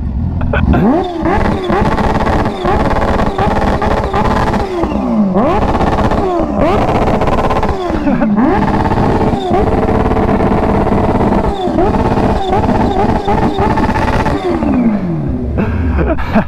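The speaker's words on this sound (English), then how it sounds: "Your boy is sick of hearing all of these cars revving." Several cars rev their engines in a parking lot, loud and close, with repeated rising and falling revs and roaring bursts running continuously, some talk faintly underneath.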